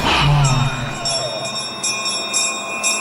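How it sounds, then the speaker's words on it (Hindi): A bell rings with a sustained metallic tone and repeated strikes, loud and close, over a low rumble, in a horror drama scene where a character aims a gun. "घंटी की आवाज सुनकर निशाना लगाइए अंकल।"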